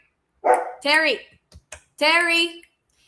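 Dogs bark in a few loud, close, separate bursts with short gaps between them, alongside faint clicking.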